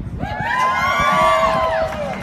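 A rally crowd of around 800 people cheering and whooping, one loud sustained shout of voices that swells and fades over about two seconds.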